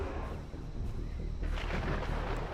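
Thunder from a lightning storm in a video game, a low continuous rumble that swells louder partway through, distant and booming with no voices over it.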